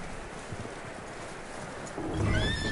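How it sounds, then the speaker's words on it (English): Hooves clop steadily at a distance in Red Dead Redemption 2, then a horse whinnies loudly near the end over a low rumble of wind. "that looks like a decent horse"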